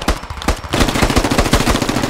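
Automatic gunfire in the military shooter game Squad, during a Canadian assault on the town Chop Shop: loud, close, rapid bursts of shots in a fast rhythm after a short lull.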